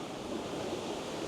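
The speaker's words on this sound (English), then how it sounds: "The wind is 17, 18 knots, so definitely the wind is not giving up much." Strong wind of about 20 knots roars across open sea off the Isle of Skye on Scotland's west coast, a steady broadband rush mixed with surf and buffeting on the microphone, no voices.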